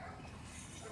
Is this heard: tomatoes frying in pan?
no